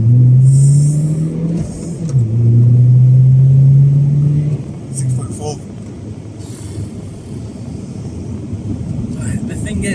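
Tuned 270bhp BMW 123d E82 pulling away hard from a race start, its engine note droning and rising for a few seconds before shifting, then fading into road and wind rumble, with voices talking inside.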